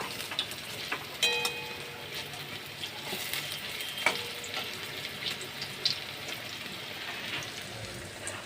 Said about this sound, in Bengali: উল্টে এই পিঠটাও আমি ভেজে নেব।